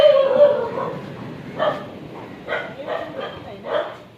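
Several small dogs on a street in Malvan give short yips and barks in separate bursts, close by, over low background noise.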